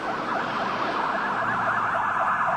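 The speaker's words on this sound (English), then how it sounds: "Rescue units with the Fresno Fire and Police Departments and an ambulance from a nearby hospital were immediately sent to the" Wailing sirens from Fresno fire and police rescue units and an ambulance, a continuous loud, rising and falling tone sweeping steadily throughout with no speech.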